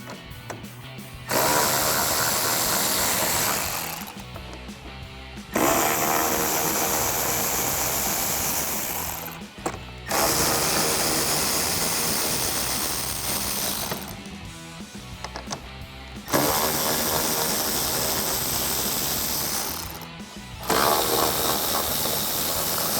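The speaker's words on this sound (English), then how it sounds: "Next, remove your inner trim panel, which is 1 8mm bolt, 6 10mm bolts, and a push pin on the back side." A power tool removes 8mm and 10mm bolts from the inner trim panel of a 2015–2017 Ford F-150. It whirs loudly and close in four or five sustained runs of several seconds, with short pauses between them.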